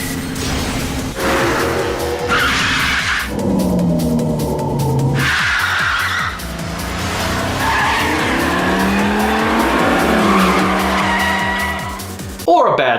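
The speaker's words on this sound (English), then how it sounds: "there are even racing segments where Kiryu will have to race his taxi against some bad boys" Taxi racing in the video game Yakuza 5, with a loud, continuous car engine and repeated tire squeals and skids through sharp turns, up close and without pause.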